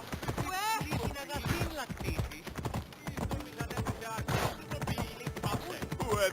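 Horse hooves galloping in Assassin's Creed Odyssey, a fast rhythmic clip-clop that runs throughout, with snorts and whinnies mixed in and a voice speaking over it.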